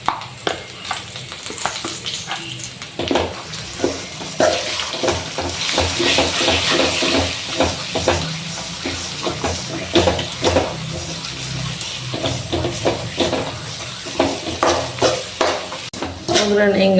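Tempering for puliyogare sizzles steadily in hot oil in a pan, a loud continuous crackle with irregular pops and spatters, along with occasional clinks of a spoon against the pan.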